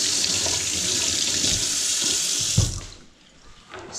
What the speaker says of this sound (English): Again, give it a rinse.